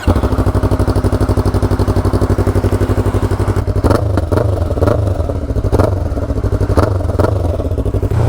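A Yamaha MT-03 motorcycle fitted with a full exhaust idles with a loud, close, throbbing rumble. Sharp blips of revving rise over it around the middle and toward the end.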